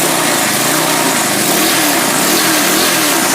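A push mower engine, being converted into a go-kart, runs steadily at a raised idle with a loud, continuous buzzing drone and slight wavering in pitch, close to the microphone with no talking.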